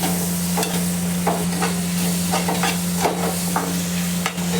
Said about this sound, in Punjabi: ਟਮਾਟਰਾਂ ਨੂੰ ਹੁਣ ਆਪਾਂ ਚੰਗੀ ਤਰ੍ਹਾਂ ਪਕਾਉਣਾ ਹੈ ਜੀ